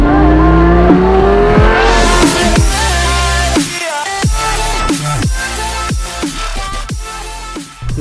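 A 2004 Lamborghini Gallardo sports car engine roars loudly and continuously, revving up and down through shifts with rising and falling pitch, strong and close throughout.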